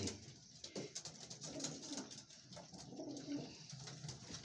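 Soft, low pigeon coos repeat faintly in a quiet space, with light rustling in the background.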